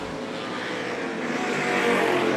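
A racing car roars past on a circuit during a saloon car race, with a loud, steady engine drone that swells slightly as it nears. No one speaks over it.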